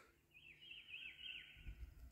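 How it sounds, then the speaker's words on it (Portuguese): A small bird chirps a quick, thin warbling trill, faint against quiet outdoor background noise and a soft low rustle. "Só passarinho aqui na volta"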